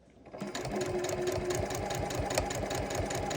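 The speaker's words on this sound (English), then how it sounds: "and now I'm going to sew." A Janome sewing machine starts up and stitches through fabric, a close, fast, even mechanical whirr of rapid needle strokes that runs without pause after a short start.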